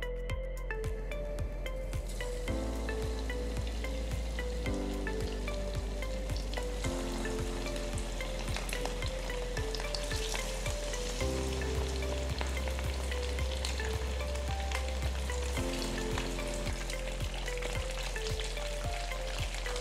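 Chicken wings fry in rice bran oil in a kadai for honey barbecue wings, a steady close sizzle and crackle running the whole time with no talk, under a constant low background hum.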